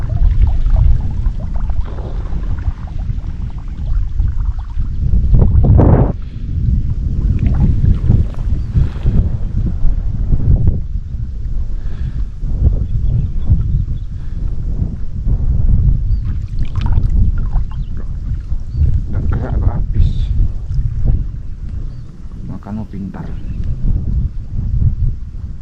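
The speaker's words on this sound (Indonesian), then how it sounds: "Angin badai." Storm wind at sea over a small fishing boat near an island, loud continuous gusting and buffeting against the microphone with water sloshing underneath, sustained throughout with no talk.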